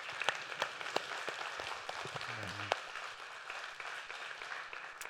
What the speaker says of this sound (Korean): 한번 박수 한번 할까요?